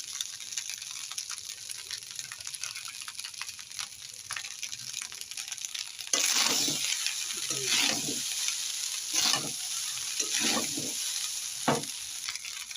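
Eggs poured into a pan of frying winter vegetables, a low sizzle that abruptly swells into loud crackling hiss, with intermittent stirring scrapes close by and no speech.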